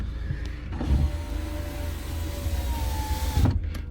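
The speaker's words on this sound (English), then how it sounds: "Oh, so the electric windows, they work." Electric windows on a 2001 VW Golf GTI Mk4 1.8T three-door whir as the motor runs, with a clunk at the start and end of travel, close and steady inside the car.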